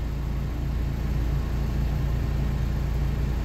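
A Renault Captur car engine idles with a steady, close low rumble and even hum throughout, with no talking.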